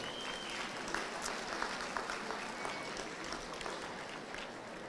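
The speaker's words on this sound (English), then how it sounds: "Let's give them a big round of applause." An audience applauds sponsors at a Teacher of the Year ceremony for Volusia County Schools, with a steady, dense crowd clapping that sounds fairly distant and subdued and stays even throughout.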